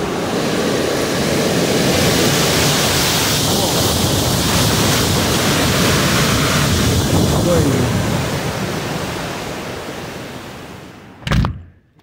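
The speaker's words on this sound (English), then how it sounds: "There's so much wind." Strong wind roars steadily at night during a category 5 hurricane, a dense broadband rush that stays loud for most of the stretch, eases near the end, and is broken by one sharp bang.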